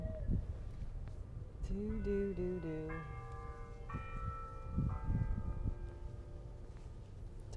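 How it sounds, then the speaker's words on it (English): Church bells ring out the hour in a series of clear, sustained tolling strikes that overlap and decay, with a steady low room rumble beneath. "we'll wait for the bells to stop ringing"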